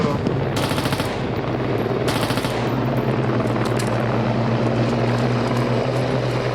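Rapid bursts of light machine gun fire in the Squad video game, loud and close, two sustained volleys over a steady engine drone that sounds like a helicopter.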